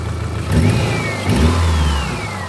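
A Subaru GL fitted with a swapped EJ251 engine runs smoothly after an ignition coil replacement, revving up and settling back twice, loud and close with a steady low rumble.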